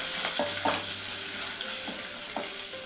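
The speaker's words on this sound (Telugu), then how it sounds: "ఇందులో ఇప్పుడు మనము ఒక 1/2 స్పూన్ పసుపు వేసుకోవాలి" Pulihora tempering sizzles steadily in a pan with a few soft stirring scrapes as half a spoon of turmeric goes in.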